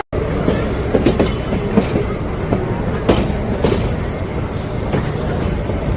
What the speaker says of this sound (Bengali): টয় ট্রেন ছাড়লো।